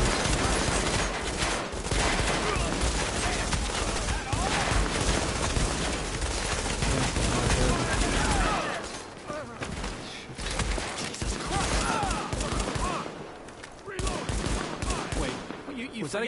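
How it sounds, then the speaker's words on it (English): Gunfire in Tom Clancy's The Division rattles in dense, loud bursts through the first half and returns after a quieter stretch, with players talking over the shooting. "Was that a gunshot?"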